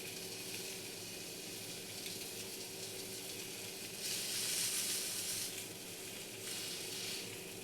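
Chicken breast frying in a pan gives off a steady, moderately quiet sizzle that swells louder for a stretch in the middle before settling back to a constant hiss.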